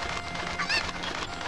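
Chicken in the video game The Legend of Zelda: Ocarina of Time, set in Kakariko Village, gives a short squawking cluck near the middle, with steady game background sound throughout.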